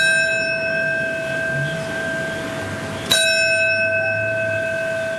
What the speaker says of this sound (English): With tolling bells